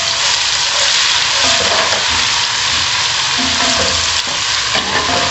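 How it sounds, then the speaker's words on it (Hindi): Onion with garlic and ginger paste being stirred and fried in hot oil for a chicken biryani, giving a steady loud sizzle with scraping stir sounds throughout and no talking. "जब प्याज के साथ हम लहसुन अदरक को भूनते हैं तो इसकी बहुत अच्छी खुशबू आती है।"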